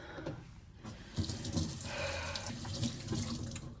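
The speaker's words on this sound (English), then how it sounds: "I need to wash my hands." Tap water pours steadily into a sink as hands are washed, a close, continuous splashing rush with small bumps from the hands moving under the stream, and no talking.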